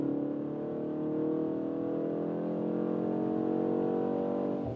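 A BMW M135 hot hatch in sport mode accelerates, its engine a steady, rising drone heard from inside the cabin with no talking.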